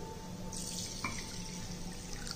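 Water is poured over red rice to wash it in a home kitchen: a soft, steady trickle and splash close by, fairly faint and with no talk.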